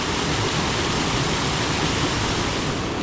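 A waterfall on a steep Maine trout stream, heard as a continuous broadband roar of rushing water, loud, close and unchanging throughout.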